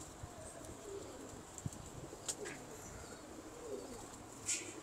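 Pigeons, including old jungle-type birds, give soft low coos against a quiet background, with a few faint chirps and small rustling sounds between them.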